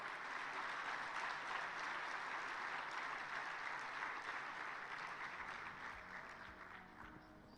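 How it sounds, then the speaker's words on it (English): Sustained applause from an audience at a Commonwealth summit forum on sustainability, a dense steady wash of clapping that fades slightly toward the end. "let's all give a round of applause"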